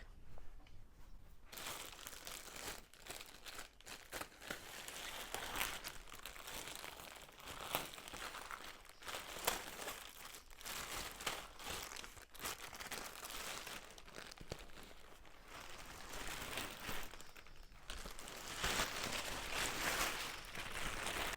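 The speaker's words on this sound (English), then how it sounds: "So let's get it out of its wrapping and see what it looks like." Plastic wrapping crinkles and rustles as it is pulled off a Linenspa memory foam mattress topper, a steady close crumpling with occasional sharper tearing bits throughout, with no talking.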